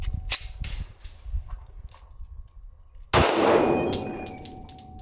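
A PSA Dagger pistol with a gritty, dirt-fouled slide fires one sharp, loud shot, preceded by a few softer metallic clicks and clanks of handling, with the report ringing out and decaying afterward.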